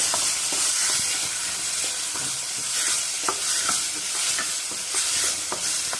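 A blended onion and tomato paste sautés in a pan for a bitter gourd curry, a loud steady sizzle broken by repeated scraping strokes of a spoon stirring it, close up with no talk.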